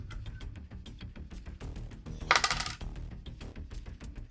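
Dice rattle and clatter across a table during a Dungeons and Dragons tabletop game, a burst of tumbling clicks standing out briefly against a steady background of light clatter and noise, with no talk over it.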